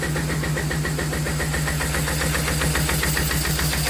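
A 1998 BMW R1100RT motorcycle engine, firing on one cylinder only, runs steadily and loud up close with a rough, rhythmic pulsing beat and no talk over it.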